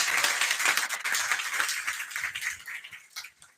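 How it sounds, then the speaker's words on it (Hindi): An audience clapping together at a ceremony honoring selected sub-inspector aspirants, a dense burst of applause that holds steady and then thins and tapers off toward the end, with no talk over it. "ताली बजाइए।"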